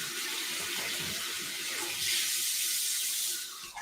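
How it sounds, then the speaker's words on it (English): Water runs steadily from a tap while something is rinsed out underneath it, a continuous hiss and splash that swells louder partway through and then cuts off near the end. "So I'm just going to go over here and rinse it out."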